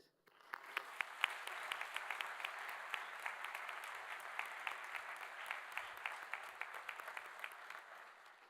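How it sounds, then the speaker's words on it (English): Graduates and guests at a Waterloo convocation ceremony give a steady round of applause for the community that supported them, sustained clapping filling a large hall for several seconds with sharp individual claps standing out. "please join me, graduates, in a special round of applause"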